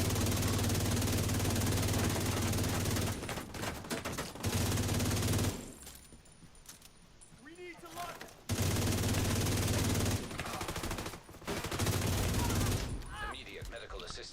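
Sustained automatic gunfire comes from The Division 2 video game. Long, dense bursts of shots alternate with short lulls, loud and close throughout, with a brief quieter stretch in the middle.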